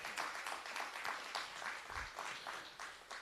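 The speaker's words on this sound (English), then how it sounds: "it deserves a round of applause" Audience clapping at the official opening of a plastic recycling depot in Kingsland, Jamaica, a modest, fairly quiet patter of hands in uneven pulses, lasting a few seconds.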